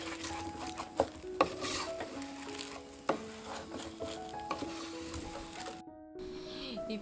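A spoon scrapes and clinks softly in a pot as rice is stirred together with potatoes and carrots, with a gentle sizzle underneath and a few louder knocks against the pot.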